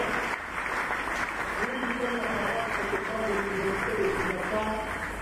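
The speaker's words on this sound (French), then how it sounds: "Nos acclamations pour que nous sommes dans la joie." A church congregation applauds and cheers in acclamation during a live worship service, a broad continuous wash of clapping with voices rising through it.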